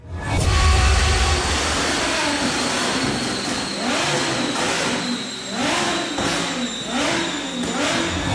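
A tuned, naturally aspirated 5.2-litre V10 in a 640 bhp Audi R8 V10 Spider, loud and close, rising through repeated sweeping revs and gear changes with a hard, sustained engine note.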